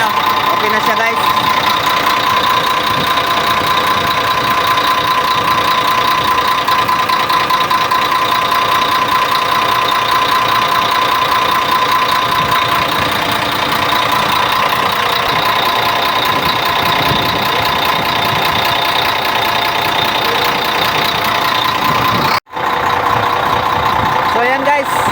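A Weichai diesel engine, newly installed, runs at a steady idle with a loud, constant droning hum and mechanical clatter, close by. The sound continues almost unbroken apart from a brief dropout near the end.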